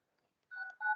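Mobile phone dial pad tones from a business calling app sound as two short, clean electronic beeps in quick succession, fairly quiet and with no one talking.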